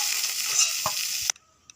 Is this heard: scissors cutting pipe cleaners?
no